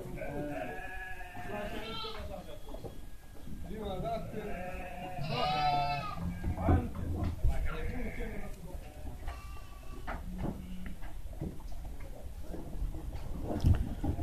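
Sheep and lambs on a farm bleat repeatedly, several overlapping calls near and far, with a steady mix of farmyard noise throughout.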